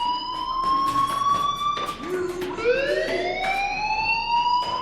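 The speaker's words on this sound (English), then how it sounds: "do you hear that fire alarm? That means you should be outside." A school fire alarm in the video game Life Is Strange wails steadily throughout, its rising and falling siren-like tones loud and continuous, with a brief sweep upward midway.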